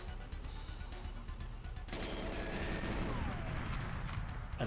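Explosions in the Nintendo 64 game GoldenEye 007 start as dull thuds, then a dense, continuous blast-and-gunfire rumble swells up and holds at moderate loudness.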